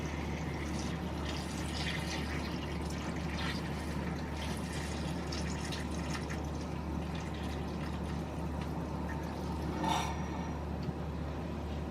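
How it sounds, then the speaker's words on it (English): Water from a reverse osmosis system runs steadily into a container, a soft continuous faint stream lasting the whole stretch with a small splash or knock near the end. "I'm just going to put some water from my reverse osmosis system in here"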